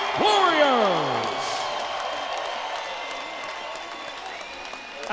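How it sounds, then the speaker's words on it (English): A bare-knuckle fight crowd applauds and cheers two welterweight fighters after five rounds, with a loud whistle-like sweep at the start and a sustained roar of applause and whoops beneath, tapering gradually. "let's have a round of applause for these two welterweight warriors"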